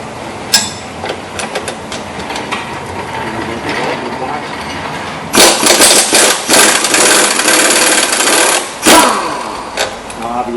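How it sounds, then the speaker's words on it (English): An air impact gun loosening the lower shock bolt on a 1992-1999 Chevy Tahoe, bursts of loud rattling hammering near the middle and end between quieter mechanical clicks, up close. "we're going to take the bottom bolt out with the air gun"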